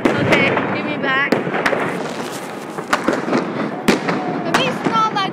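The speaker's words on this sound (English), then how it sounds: "Everyone, firework." Street fireworks on New Year's Eve in Copenhagen: sharp bangs and crackling bursts going off repeatedly, near and far, over a dense noisy crowd with whistling rockets and people talking and shouting.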